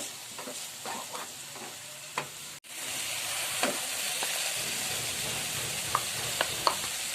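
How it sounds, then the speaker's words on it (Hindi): Grated carrot halwa frying in oil and ghee, a steady close sizzle with intermittent stirring scrapes and soft clicks of a spoon, briefly interrupted early on before the sizzle resumes louder, no voices. "मैं इसमें ऑयल एंड घी के अंदर मैं अपना ये हलवा जो है ये इसके भूनने का अमल शुरू कर दिया"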